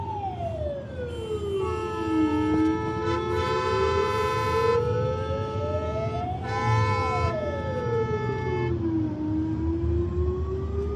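An ambulance siren wailing through city road traffic, its pitch sweeping slowly up and down in long cycles, fairly close and loud, with short car horn toots mixed in over the engine rumble of surrounding vehicles.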